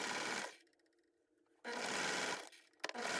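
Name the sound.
serger sewing knit fabric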